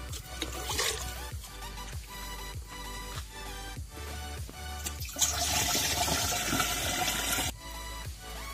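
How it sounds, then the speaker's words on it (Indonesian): Water pours and splashes steadily into a sprayer tank while mixing insecticide and nutrients for sweet corn, with a brief louder rush partway through and a faint voice in the background. "Lalu tambahkan air sampai hingga sampai penuh."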